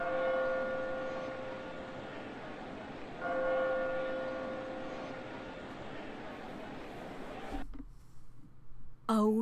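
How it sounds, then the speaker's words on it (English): An awful-sounding bell rings out in two long, steady tones over a busy background, followed by a couple of brief bursts of other noise near the end. "Oh, there's that awful bell."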